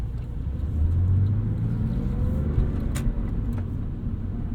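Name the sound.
driving a 2002 Porsche 911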